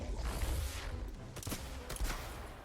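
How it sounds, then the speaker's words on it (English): An empowered repeater heavy shot in Dauntless launches multiple missiles in quick succession, each a rough, muffled burst over a dense rumbling bed, with two or three sharper cracks standing out near the end. "When it's empowered, it actually does multiple missiles instead of one missile."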